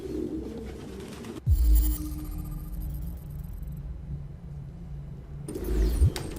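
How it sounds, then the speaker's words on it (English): Pigeons coo in a low, throaty murmur in the video game Detroit: Become Human, a steady soft cooing under a quiet ambient hum, broken by two sharp low thumps. "No human could live with all these fucking pigeons."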